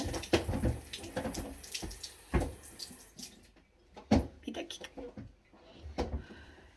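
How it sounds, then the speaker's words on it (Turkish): Running tap water splashes in bursts as a face is rinsed after a homemade peeling, with hand-scrubbing splashes over several seconds and someone talking over it. "Ben hemen duruluyorum."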